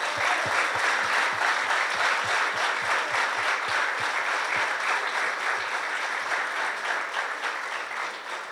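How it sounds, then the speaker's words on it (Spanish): Crowd applause at an outdoor anniversary celebration in a theme park in Argentina, steady dense clapping sustained for about eight seconds with some individual claps standing out, easing slightly toward the end. "Así que le damos un aplauso, un fuerte abrazo."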